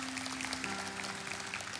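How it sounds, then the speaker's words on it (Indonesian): Faint applause from a church congregation, a soft steady patter of clapping held low in the room with a sustained tone underneath. "Kasih tepuk tangan buat Tuhan Yesus."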